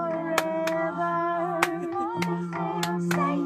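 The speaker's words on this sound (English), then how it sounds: "Remember how to do our clapping." Several sharp, irregular hand claps ring out over sustained musical tones at a late-night craft club gathering.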